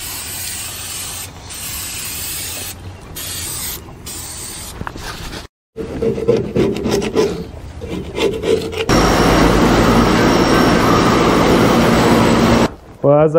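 Paint is stripped off Caterpillar D4 radiator parts with loud, harsh rasping and scrubbing strokes, a brief silent gap midway, then sustained, denser scouring close to the microphone.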